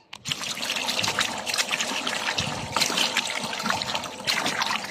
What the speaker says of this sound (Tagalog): Ngayon, hugasan na natin.